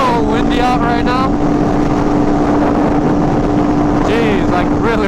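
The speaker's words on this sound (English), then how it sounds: "it's like crazy windy right now" Heavy wind roars and batters the microphone out in open hill country, loud and unbroken throughout, with a person's voice partly audible beneath the rumble.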